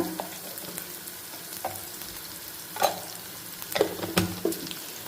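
Onions sizzle in hot oil in a tempering pan with a little turmeric, a steady low crackle with several sharper stirring scrapes and spits near the end.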